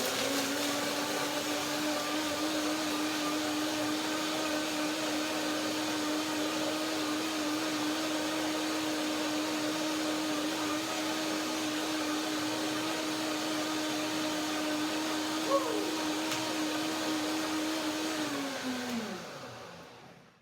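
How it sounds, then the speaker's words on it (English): A blender whirs steadily at high speed, grinding soft cashews and dates for a cashew cream, a constant motor drone for about eighteen seconds before winding down and stopping. "So blender dance, let's see."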